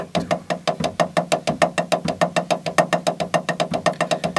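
Big open double strokes played around a drum set with a circular motion, a fast even stream of paired hits rolling across the drums, close and bright, no talking.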